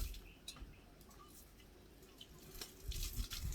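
Rainwater collected off a house roof in the Jamaican countryside is poured from a container, giving a steady soft trickle with small splashes that swells into a fuller pour near the end.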